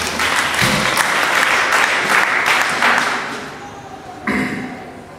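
A church congregation bursts into loud applause that holds for about three seconds, then fades out, followed by a single sharp thump and scattered trailing claps.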